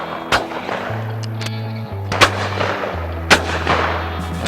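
Shotgun shots at a sporting clay shooting championship, three sharp outdoor reports spaced about a second apart over steady low hum and background bustle.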